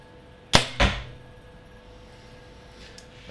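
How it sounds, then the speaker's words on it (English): A bare-shaft arrow is shot from a PSE Perform X compound bow during tuning outdoors, giving a sharp release snap followed a split second later by a thud, then quiet. "Now I'm going to shoot the bear shaft."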